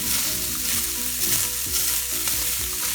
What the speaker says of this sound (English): We're going to saute all this.